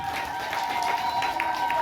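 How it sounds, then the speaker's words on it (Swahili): A church congregation applauding and clapping in praise during a worship service, a steady wash of crowd applause with a held tone running beneath it. "tumpe Bwana makofi kwa ajili ya utunzaji wake mwema"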